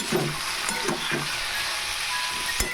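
Salted vegetables for veg chowmein sizzle steadily in a hot pan while a utensil stirs them, giving a few soft scraping knocks over the continuous frying hiss.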